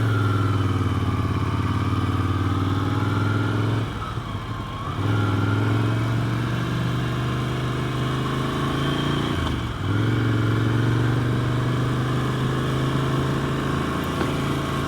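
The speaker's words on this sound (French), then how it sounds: "Et comme prévu, c'est bien chargé niveau circulation." Busy mountain road traffic near Col du Télégraphe on the Route des Grandes Alpes, heard from a running motorcycle: a loud, steady engine drone with two vehicles whooshing past close by.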